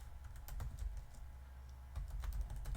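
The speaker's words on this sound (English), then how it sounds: "just type in Eclipse" Rapid keystrokes on a computer keyboard while entering a search for Eclipse, a close, steady patter of clicks in irregular bursts with no talking.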